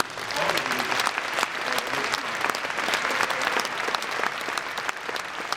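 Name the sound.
applause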